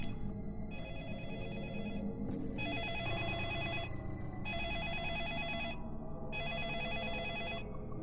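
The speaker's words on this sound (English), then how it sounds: "Phone ringing" Telephone ringing in the video game Deadly Premonition, lumber mill setting: an electronic ring in four evenly spaced bursts with short gaps between them, steady and clear with no talking.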